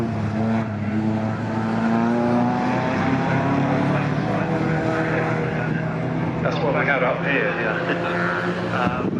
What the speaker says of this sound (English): so just holding off Bellinger, and they continue on for another lap